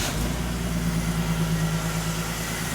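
An old off-road truck engine, recently worked on for an exhaust leak, idles steadily and close after firing up, a continuous low rumble with no voices.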